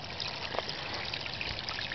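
Water trickles steadily from a pea gravel filter in a garden fountain water feature down into a pond. A continuous, even, close splashing flow carries on with no voices.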